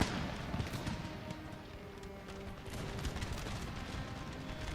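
Faint, distant volleys of musket and pistol fire crackle through an Empire: Total War battle at a pirate stronghold, a steady rolling clatter of many small arms with occasional heavier booms.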